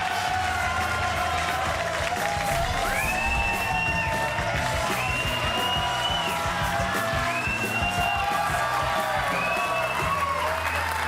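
A late-night talk show studio audience claps loudly and steadily while repeated cheers and whoops rise above the applause. The whoops come in several waves.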